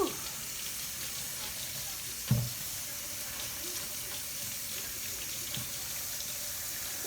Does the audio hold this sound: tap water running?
yes